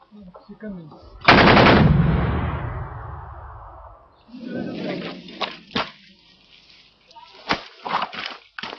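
Machine-gun fire from Pakistani gunners at Siachen, in the high-altitude mountains: one loud sustained burst echoes away across the ridges, followed by fainter scattered shots and short bursts.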